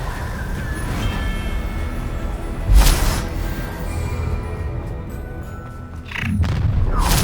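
Explosive spell blasts in the Hogwarts Legacy video game, a couple of booming bursts over a dense rumbling combat backdrop, the loudest near the start and another toward the end.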